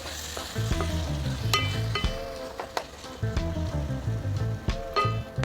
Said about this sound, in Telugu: టమాటాలు మెత్తగా అయ్యేంత వరకు కొద్దిసేపు మగ్గించుకుందాం